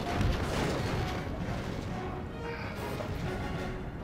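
Defensive towers firing on attacking troops during a city siege in Third Age Total War: dense, continuous battle din of shots and impacts, loud and steady throughout.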